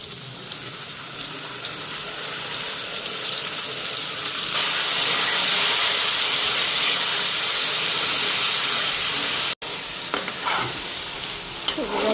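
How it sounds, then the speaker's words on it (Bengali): Spices and turmeric fry in a pan with a steady, loud sizzle that swells midway, with occasional stirring scrapes and no talk. "মশলাটাও হালকা ফ্রাই হয়ে গেছে"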